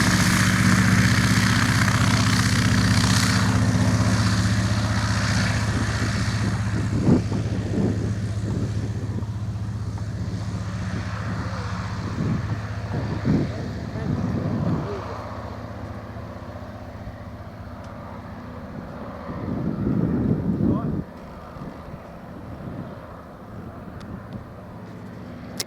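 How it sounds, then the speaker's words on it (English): A propeller aircraft flies over an airfield campsite, its steady engine drone rising and falling, with a louder, closer surge near the end as it passes overhead. "And here he comes for a flyover"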